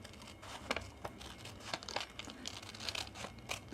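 Scissors cut a paper sewing pattern around the armhole, giving quiet, close crinkling and crunching snips in an irregular rhythm.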